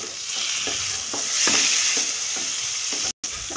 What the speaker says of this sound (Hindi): अब इसे हम मिक्स कर लेंगे अच्छे से।